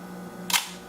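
A Leicaflex SL2 single-lens reflex camera firing its shutter at 1/250 second, one sharp, close mechanical clack over a quiet hum, with no talking.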